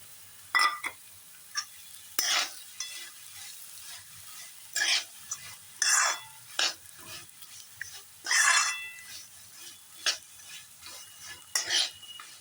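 Jaggery is stirred into ghee in a pan to make syrup for soft tilgul ladoo, with scraping strokes that come in separate bursts over a low background, alone and close.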